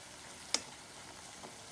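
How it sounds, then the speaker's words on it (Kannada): Masala fries in a pan for paneer butter masala, giving a faint, steady sizzling hiss with a couple of sharp little ticks. "ನಾವೆಷ್ಟು ಚೆನ್ನಾಗಿ ಫ್ರೈ ಮಾಡ್ತೀವೋ ಅಷ್ಟೇ ಚೆನ್ನಾಗಿರುತ್ತೆ"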